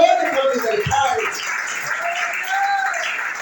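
A congregation at a church teaching service applauds in a continuous, moderately loud patter while a voice speaks over the first part.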